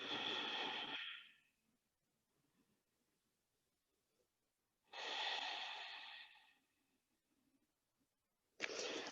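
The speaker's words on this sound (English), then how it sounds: "Connect with your Ujjayi breath." Slow ujjayi breaths during a yoga session in crocodile pose, three long audible ocean-like exhalations through the throat, close and fairly loud, separated by quiet pauses, with no talking.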